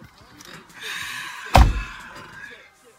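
A car door slams shut once, a single loud, close thud in the middle, with a muffled hum and movement before and after.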